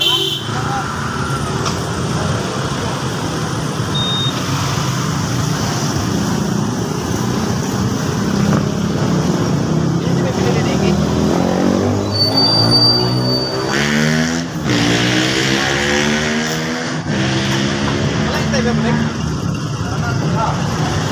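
Along a busy street, a motorcycle engine runs and rises in pitch as it pulls away, mixed with traffic rumble and people talking nearby.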